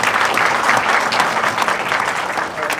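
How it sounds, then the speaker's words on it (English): Audience at a startup growth panel in India claps loudly and steadily, a dense sustained burst of applause filling the room for about three seconds. "we'll give them a huge round of applause."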